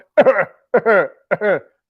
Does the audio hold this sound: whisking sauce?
no